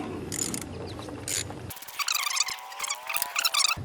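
A ratchet tightens the ignition coil bolt on a 9th-generation 2001-2008 Toyota Corolla Altis, giving close, rapid clicking pawl strokes in a few quick bursts.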